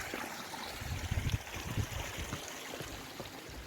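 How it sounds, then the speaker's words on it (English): Mountain stream water running and trickling over rocks high on a fell path in the Lake District, a steady broadband rush with some low gurgles, fairly faint and continuous with no talk. "There's water running out from all directions up here. Another stream."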